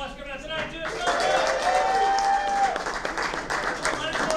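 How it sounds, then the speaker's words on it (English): Audience applause at a stand-up comedy night in a restaurant, a steady wash of clapping that swells and holds while a host speaks over it. "Give yourself a big round of applause coming out tonight"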